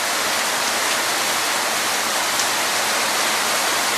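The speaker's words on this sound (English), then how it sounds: "See there, guys? Rain." Rain falls on a rainy Sunday as a steady, dense hiss of drops, loud and unbroken throughout with no voices.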